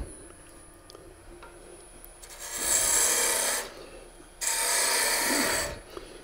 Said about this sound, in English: So I take my parting tool.